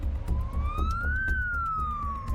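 Emergency vehicle siren in Kyiv after a missile attack, a loud continuous wail rising and falling in pitch over rumbling street noise, close by.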